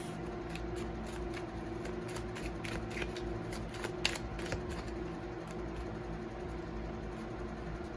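A deck of handmade oracle cards is shuffled and handled up close, giving a steady series of soft crisp flicks and riffles over a low, constant background hum.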